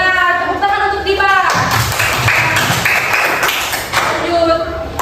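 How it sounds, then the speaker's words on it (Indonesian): Third-grade pupils in a classroom clap for a classmate in a short, lively burst, with a teacher talking before and after the clapping. "Tepuk tangan untuk Diba."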